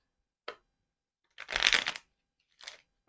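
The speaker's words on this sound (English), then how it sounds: "We're going to shuffle and draw our first card" Three bursts of a playing-card deck being shuffled, a short riffle, a longer loud middle shuffle, then a brief faint one, close up with no talking.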